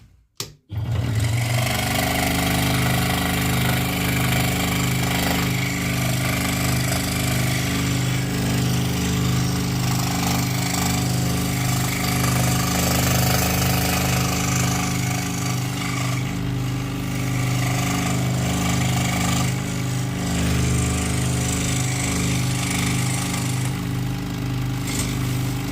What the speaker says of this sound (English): You're scroll sawing? Yeah, I am.